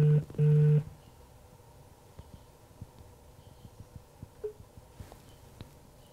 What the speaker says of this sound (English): Now he's just ignoring my phone calls.